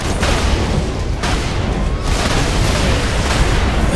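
Explosions go off one after another in a chain reaction in Saints Row IV, a dense, loud run of booms and bursts filling the whole stretch with no pauses.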